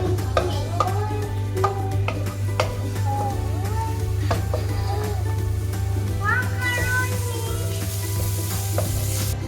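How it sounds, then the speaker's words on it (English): Onion and macaroni being stirred in a sizzling pan, with steady frying hiss and repeated spoon scrapes and knocks against the pan, loud and close, while a person talks over it and small background sounds come and go. "we need to just stir this so the onion won't turn into black"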